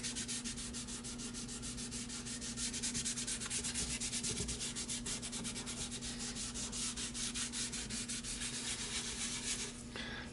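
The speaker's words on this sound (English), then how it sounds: "this is definitely picking up a little bit of brown as I'm rubbing it through" Stain being rubbed by hand into a quilted maple guitar top, making a continuous, even rhythmic rubbing swish with fast regular strokes, close and steady throughout with no talking.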